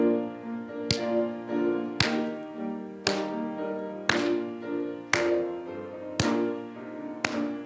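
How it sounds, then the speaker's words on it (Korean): A church congregation claps along to a hymn: sharp, unison claps land about once a second, eight in all, over sustained keyboard or organ chords. "우리 힘차게 박수 치면서"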